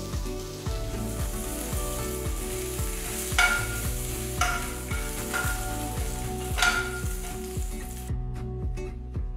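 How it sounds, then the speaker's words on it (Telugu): Mustard seeds, dried red chilies, asafoetida and curry leaves fry in sesame oil for a tempering, giving a continuous close sizzle with crackles and stirring scrapes, under faint background music. "కొన్ని కరివేపాకులు వేసి వేయించాలి"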